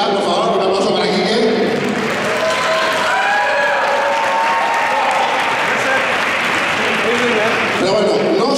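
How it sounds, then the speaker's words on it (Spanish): Enthusiastic crowd applause and cheering at a live wrestling show, honoring the wrestlers and referee, steady and full throughout with a voice speaking over it. "este enfervorecido aplauso para nuestros luchadores"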